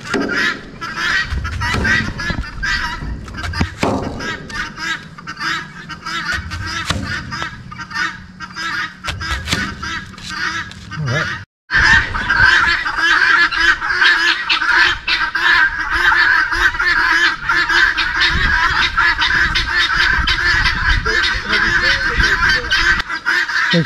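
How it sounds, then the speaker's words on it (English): Loud, continuous chorus of chickens and guinea fowl on a farm, harsh cackling and honking cries overlapping close by, briefly cutting out midway before resuming. "The chickens and the guineas have sent two different attack forces."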